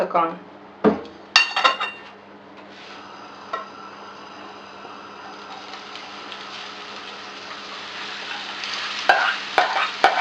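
Onion sizzles steadily in hot oil in a pan while a utensil stirs and clinks against it, with sharper scraping knocks at the start and end.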